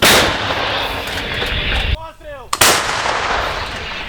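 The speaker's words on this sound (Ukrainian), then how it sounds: "Постріл!" A loud artillery gun fires, a huge broadband blast that fills the clip, with a brief lull near the middle before a second sharp boom.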